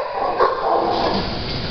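Dogs bark in a dense, overlapping chorus inside an animal shelter, loud and echoing, with no clear gaps.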